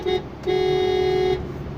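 A car horn on a highway gives one short toot, then a longer sustained honk, loud and close, over low road noise from inside the vehicle.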